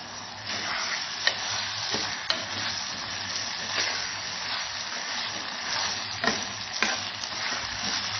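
Chicken kheema masala mixture sizzles steadily while being stir-fried in a pan, a continuous frying hiss broken by occasional scraping clicks of the spatula.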